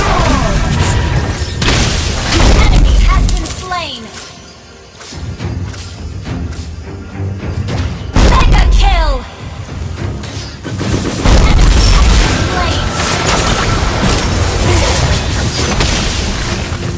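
Turret destruction in the mobile game Mobile Legends: loud booming crashes and explosion bursts recur through the clip over a dense game soundtrack, with brief lulls between the heavy impacts.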